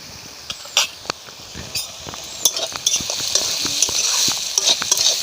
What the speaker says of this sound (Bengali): যাতে পেঁয়াজটা ভালোভাবে ভাজা হয়ে যায়